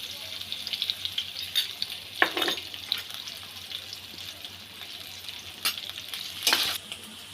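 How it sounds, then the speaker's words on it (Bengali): Potato pieces frying with salt and turmeric in a pan produce a soft, continuous sizzle, broken by a few brief louder scraping stirs close by. "আলুটা ভাজা হয়ে গেছে"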